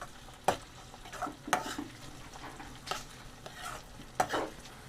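Ginger and garlic frying in a pan for a dhaba-style palak paneer paste, with a soft steady sizzle and several sharp scraping stirs of a spatula, close and alone without talk.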